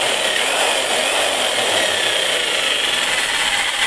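A heavy electric tree-cutting chainsaw with a 16-inch bar runs continuously at a steady, loud, high-pitched whine for the whole stretch, with no talking.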